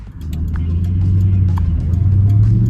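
A 1999 Ford Mustang GT, a rear-wheel-drive car, rounds a right-hand corner with a steady, loud engine drone and low rumble heard up close from inside, with no talking.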